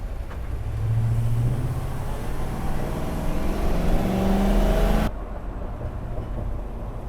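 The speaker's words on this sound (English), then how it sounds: "Give that V8 engine a little rip and roar." A 2026 Thor Axis 24.1 Class A motorhome's V8 engine pulls hard onto an interstate, a steady close drone whose pitch climbs under the load and then drops with a shift, over constant road noise.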